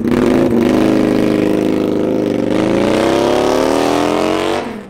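A cruiser motorcycle's V-twin engine revs loud and close, its throaty rumble rising steadily in pitch before cutting off abruptly.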